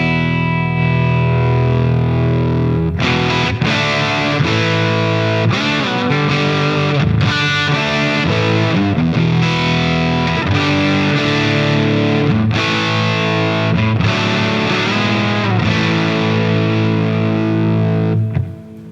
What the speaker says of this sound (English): I'll turn the preamp up for you and let you hear that